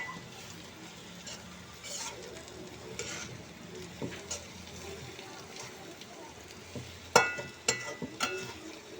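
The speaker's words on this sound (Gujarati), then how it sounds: "અને એને આપણે ઘડીક હલાવી નાખશું." Prepared masala is stirred in a pan for Bombay duck chutney, with a soft continuous sizzle and intermittent scraping and clinking spoon strokes, growing sharper near the end, while someone talks over it.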